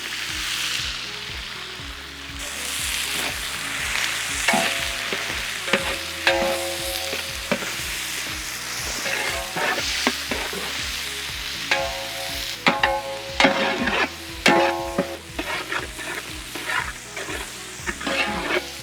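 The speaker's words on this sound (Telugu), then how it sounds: "దీంట్లోనే మనం ఉల్లిపాయ ముక్కలు యాడ్ చేద్దాం." Chopped onions sizzling in hot oil with cumin, mustard seeds and pepper for a potato tomato curry, a steady crackling fry with occasional stirring scrapes and clinks, close and fairly loud.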